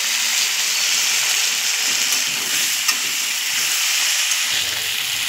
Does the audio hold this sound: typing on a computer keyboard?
no